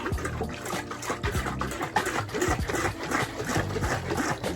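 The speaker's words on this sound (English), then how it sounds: "Shake it for about 30 seconds to a minute" Mango wine sloshes inside a shaken pickle jar, giving quick rhythmic bursts of liquid splashing and knocking that repeat steadily and sit close to the listener, with no talking.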